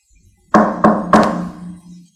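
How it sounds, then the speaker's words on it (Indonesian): Three loud, hollow knocks on a wooden door, evenly spaced and close by, each ringing briefly before fading, used as a sound effect in a horror story. "Tiba-tiba terdengar suara ketukan pintu"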